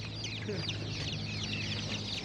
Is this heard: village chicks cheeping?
yes